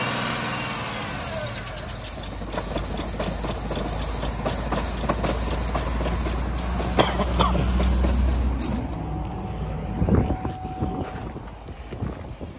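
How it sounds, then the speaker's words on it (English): A 2003 Buick Rendezvous engine runs steadily outdoors, a continuous low rumble with wind buffeting the microphone, then briefly revs near the end before settling. "we're gonna turn on the motor so you can hear it"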